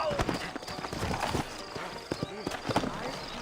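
Horse hooves clip-clop in a steady trotting rhythm in the video game Red Dead Redemption, with someone talking over them throughout.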